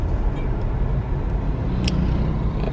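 Road traffic at an intersection in Jamaica, with steady broadband vehicle rumble from nearby cars and heavier vehicles, and a brief brake-like hiss near the end.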